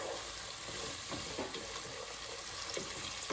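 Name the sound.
curry leaves frying in a pan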